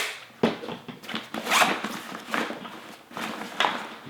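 A zipper on a 2019 Sitka Full Choke Pack is pulled open in several short rasping strokes, close and fairly loud, with no talking.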